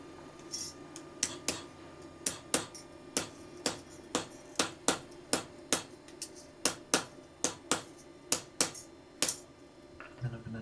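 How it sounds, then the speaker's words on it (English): A hide mallet strikes a rough copper blank to flatten it, giving about twenty crisp, evenly spaced taps in a steady rhythm, close and moderately loud, with no talking. "I'm just going to flatten it all out with a hide mallet."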